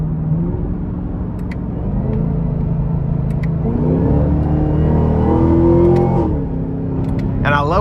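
A 2024 Chevy Camaro ZL1 Convertible engine in track mode rumbles loud and close, revving with rising and falling pitch and a deep, steady growl throughout.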